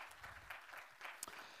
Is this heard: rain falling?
no